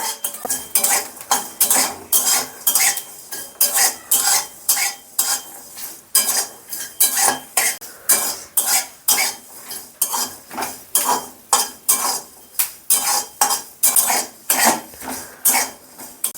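Dry-fried garlic with black cumin is stirred in a pan for a bean bharta, giving a steady, close run of rhythmic spatula scrapes and clinks against the metal, with little audible sizzle.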